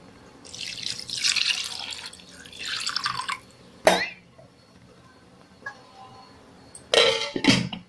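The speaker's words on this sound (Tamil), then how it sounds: "இதில் அப்படியே தண்ணி ஊற்றி தட்டு போட்டு மூடி வைக்கிறேன்" Water splashes and trickles into a pot of mudakathan keerai soup in a couple of pours, followed by a clink and a few quieter knocks as a plate lid is set on.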